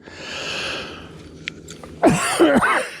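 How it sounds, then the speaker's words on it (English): A few harsh coughs burst out close by after a stretch of quiet room tone, loud and raspy, coming in two or three quick bursts. "Got a cough."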